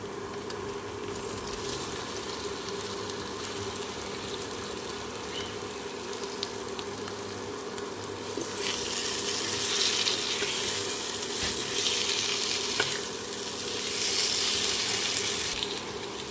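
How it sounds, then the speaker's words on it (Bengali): Fried potato and pointed gourd hit hot spiced masala in a pan, a continuous close sizzle and frying hiss that swells louder in the second half as the pieces are stirred, no voices. "এবারে আমি ভেজে রাখা আলু ও পটলগুলো দিয়ে দেবো"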